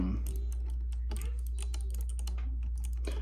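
Someone types on a computer keyboard close by, with quick irregular clicks and taps in bursts over a steady low hum.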